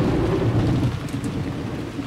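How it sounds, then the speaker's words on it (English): Rumbling thunder rolls over heavy, steady rain in the Umineko visual novel, a dense continuous downpour with a low, loud roar and no voices. "The crashing thunder told that the island had been sealed off from the outside world."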